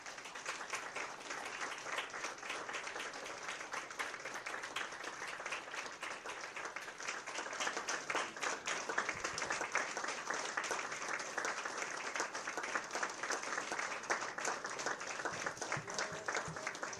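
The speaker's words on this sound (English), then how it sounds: "may we now welcome Vice President Xiao Biqing with a round of applause" A conference audience at a Taiwan–Europe cooperation press event gives sustained applause for the vice president, a dense, even wash of many hands clapping that swells slightly midway and carries on without a break.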